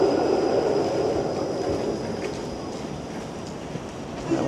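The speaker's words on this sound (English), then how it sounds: "The 504 King streetcar." Toronto's 504 King streetcar rolls past on a downtown street as a broad, steady rumble. It is loudest at first and slowly fades, with faint rail clicks and a high whine.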